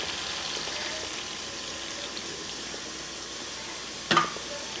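Half a cup of water goes into a pepper chicken curry cooking in a mud pot: a soft, continuous sizzle, then one short, sharper splash near the end.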